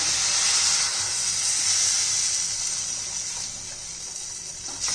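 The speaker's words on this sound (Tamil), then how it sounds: "இப்போ இதில் தண்ணி சேர்த்திக்கோங்க காய் நல்லா வேகட்டும்" A steady rush of water pouring into a pot of fried vegetables for sambar, continuous and fairly loud, easing slightly toward the end.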